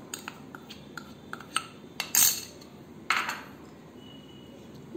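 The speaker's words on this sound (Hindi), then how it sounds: "डाल के इसको अच्छे से मिक्स करेंगे।" A spoon stirs tutti frutti into custard cake batter in a bowl, giving light rhythmic clinks and taps against the side with a couple of louder scrapes, close and clear.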